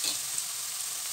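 Onions sautéing in oil in a pan until brown for dum biryani, giving a steady close hiss of sizzling with faint stirring, brief and alone.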